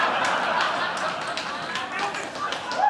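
A comedy club audience reacts with a mix of groans, murmurs and scattered laughter, with the men in the crowd heard as a dense, close crowd sound that rises slightly at the end.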